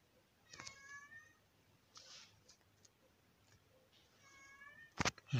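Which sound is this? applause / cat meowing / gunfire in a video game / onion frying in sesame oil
cat meowing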